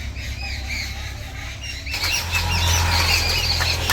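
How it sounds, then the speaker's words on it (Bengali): Household birds squabble near a kitchen, with harsh squawks and wing flaps breaking out suddenly and growing louder over a steady background hum. "এদিকে পাখিতে পাখিতে ঝগড়া লাগিয়ে দিছে"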